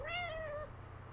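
A single cat meows in Little Inferno, one clear falling meow lasting about half a second over a low, steady background hum.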